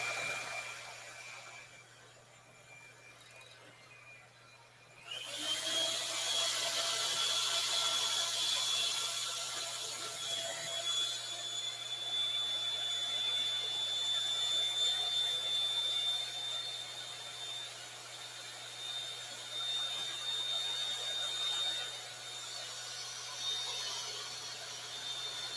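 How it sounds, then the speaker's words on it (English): Electric kitchen mixer whirring steadily at close range while whipping a no-bake lemon pie filling, starting up after a quieter stretch and then running continuously with a thin high whine, no talk over it. "I had to turn the mixer off a minute"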